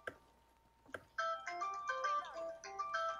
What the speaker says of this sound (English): My phone's fucking going off.